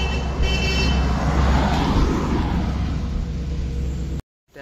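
A Porsche supercar pulls away in a street, its loud, close exhaust roaring steadily before cutting off abruptly near the end.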